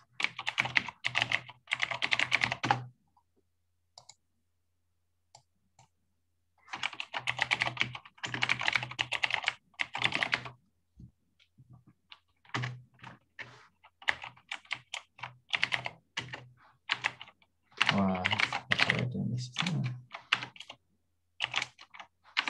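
Fast typing on a computer keyboard while coding software tests, in dense bursts of clicks separated by pauses, close and fairly loud, with no voices.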